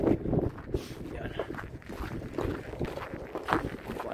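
Wind buffets the microphone beside a runway at the airport in Anaktuvuk Pass, Alaska, in gusty, uneven rumbling bursts, with speech mixed in.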